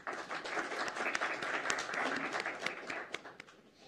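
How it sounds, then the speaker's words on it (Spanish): Audience applause greeting a doctor, the general legal director, as he takes the stage in a large auditorium hall; dense, steady clapping from many hands fills the whole clip at moderate loudness, tapering slightly at the end. "les pediría un aplauso para darle la bienvenida al doctor"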